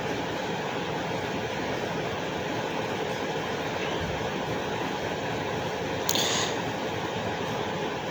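A train runs along railway tracks in Bangladesh on the way toward the Jamuna Bridge, heard from on board as a constant, loud rumbling roar with a brief higher clatter near the end.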